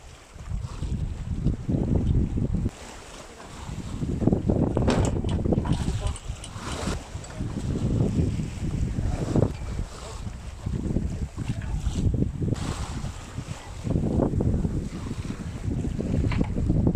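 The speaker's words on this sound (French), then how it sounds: "on va essayer de t'engonner cette voile là parce qu'elle claque et c'est pas bon pour la voile" Wind buffets the microphone aboard a sailboat at sea between the Canaries and Cape Verde, with bursts of flapping sail and rushing air rising and falling over about seventeen seconds.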